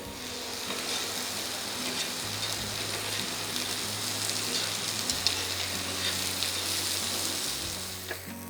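Chicken breast sizzles steadily on a grill, a dense continuous frying hiss at even loudness throughout with no talking.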